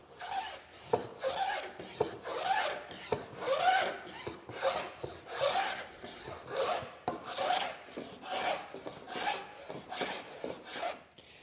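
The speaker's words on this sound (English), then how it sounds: "taking my block plane and planing these down so that I keep these bevels in here." A block plane shaves rolling bevels into wooden carvel planking, a steady series of close, dry rasping strokes repeating about once a second with no talking.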